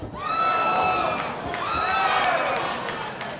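Crowd at an Absolute Fighting Championship MMA bout roars and cheers loudly after a thigh kick, a sustained swell of shouting voices with commentators talking over it.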